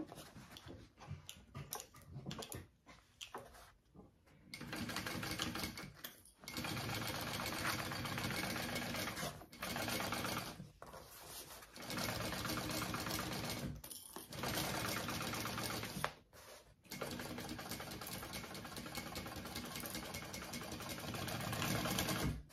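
A sewing machine top stitches a backpack in several fast whirring bursts lasting a few seconds each, separated by short pauses.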